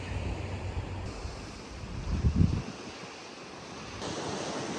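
Surf of the North Atlantic rolls against Bermuda's south shore below a cliff, a soft continuous wash with wind buffeting the microphone and one swelling wave surge midway.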